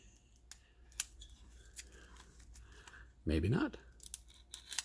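A knife slices through cellophane wrapping on a boxed World at War '85 card game, giving a short, close crackling tear after scattered faint handling clicks, with a brief murmur of speech nearby.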